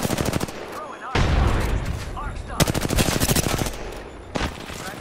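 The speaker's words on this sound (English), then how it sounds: "they're shooting at me." Rapid bursts of automatic gunfire crackle in a squad-based shooter video game, loud and close, with sharp volleys separated by short pauses and faint voices beneath.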